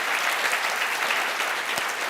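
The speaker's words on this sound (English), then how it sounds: "How about an additional round of applause for these guys?" A brief burst of dense audience clapping for Team SmartArm at the 2018 Imagine Cup World Championship, steady and even throughout with one sharper clap near the end.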